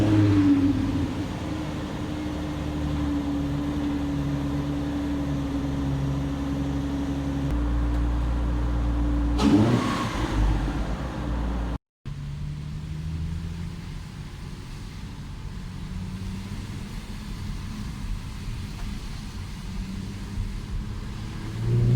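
A car's VQ35DE engine heard through an aftermarket muffler exhaust with oval exits, a steady idle drone, then a sharp rev that falls back. A brief dropout follows before a lower, rougher idle resumes.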